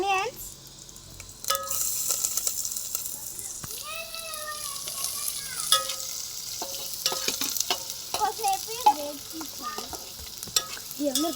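Onions frying in hot oil in a pan, with a constant crackling sizzle, intermittent scraping as they are stirred, and voices talking faintly over the cooking.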